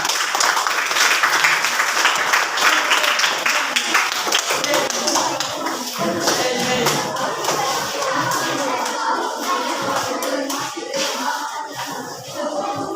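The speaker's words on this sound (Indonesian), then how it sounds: "berikan tepuk tangan" Participants at a group presentation session clap their hands, a dense, continuous round of clapping lasting over ten seconds while voices talk underneath.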